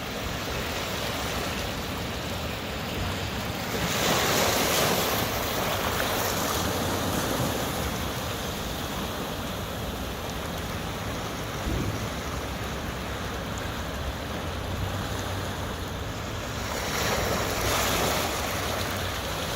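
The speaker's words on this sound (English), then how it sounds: "planting my feet on the rocks, listening to the water." Water rushes steadily over rocks outdoors in nature, a continuous broad rushing wash with gentle swells in loudness, close and alone.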